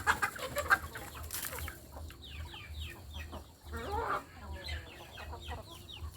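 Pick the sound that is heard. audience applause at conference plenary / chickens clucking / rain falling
chickens clucking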